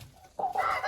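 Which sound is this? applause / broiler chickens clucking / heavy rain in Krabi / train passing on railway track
broiler chickens clucking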